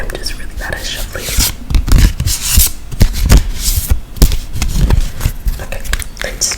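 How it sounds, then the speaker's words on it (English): Tarot cards are shuffled by hand in a close, soft riffling and sliding rhythm, repeated bursts of papery rubbing and flicking, while a voice whispers over them. "why don't we just like shuffle it and pick one card"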